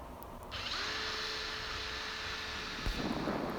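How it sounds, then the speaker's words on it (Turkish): A power drill fitted with a sanding pad whirs steadily at high speed with a rough sanding scrape against a workpiece, then a brief clunk as it shifts near the end. "Üzerinde zımparamız, arkasında takoz ve bunu bu şekilde matkaba bağladım."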